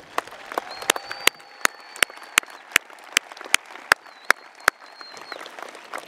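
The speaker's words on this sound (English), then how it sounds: "Let's give another round of applause to Falcon High School's Symphonic Band" Applause for Falcon High School's Symphonic Band at a graduation ceremony, with sharp, separate hand claps ringing out in a large, reverberant space and a faint tone humming underneath.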